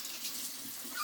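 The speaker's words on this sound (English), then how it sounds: "after rinsing my spoon" Faint running tap water rinsing a spoon in a kitchen sink, a soft, brief steady trickle and splash with no talking.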